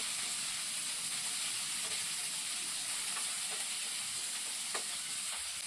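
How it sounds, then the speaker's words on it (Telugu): Chopped onions sizzle and fry in a pan for a tomato onion curry while being stirred, a constant hissing crackle with occasional soft scraping clicks of the spoon, close and steady. "మనం ముందుగా కట్ చేసి పెట్టుకున్న ఆనియన్స్ ముక్కల్ని వేసుకోవాలండి. వీటిని కూడా కలుపుకుంటూ ఫ్రై చేసుకోవాలి"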